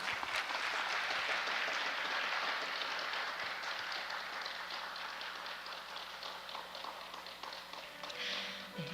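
An audience applauding after a lecture on the Cheonbugyeong and Heidegger at a cultural festival, steady dense clapping that carries on for the whole stretch and thins slightly toward the end.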